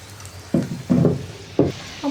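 Chicken snack strips deep-frying in hot oil, a soft continuous sizzle with a few louder bubbling surges as pieces are moved or turned, no talk.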